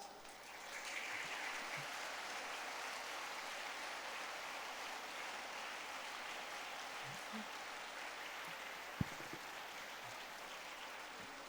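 An audience at a school annual day breaks into sustained applause, a dense, even wash of clapping from a large crowd that holds steady throughout, with a few faint voices underneath.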